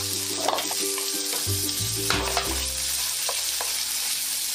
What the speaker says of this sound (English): We're going to saute our nice garlic,